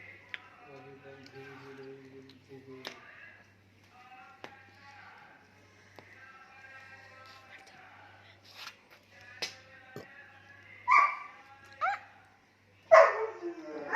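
A dog barks in a few sharp bursts near the end, outdoors by a farm field, while people talk and a low steady hum runs underneath.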